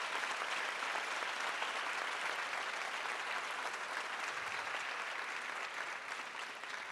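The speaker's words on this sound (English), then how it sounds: "Give them all a big hand of applause." Sustained applause from a conference audience honoring hospital medical teams, dense and even clapping that holds steady for several seconds before easing slightly at the end.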